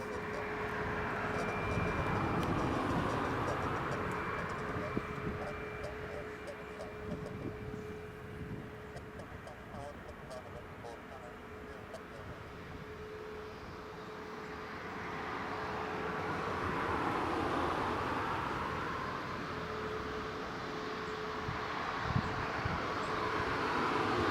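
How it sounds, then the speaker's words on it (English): A Ryanair airliner takes off at Leeds Bradford Airport, a steady broad jet roar with a sustained whine that swells and recedes across the stretch, loud and continuous with no talk. "Ryanair clear for takeoff."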